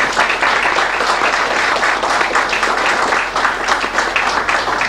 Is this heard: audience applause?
yes